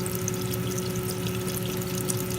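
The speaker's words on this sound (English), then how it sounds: "I'm gonna add about 48 ounces of broth, beef broth." Beef broth pours steadily into a cooking pot for beef nilaga, a short, continuous liquid rush with a faint underlying hum.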